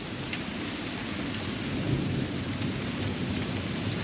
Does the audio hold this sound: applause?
no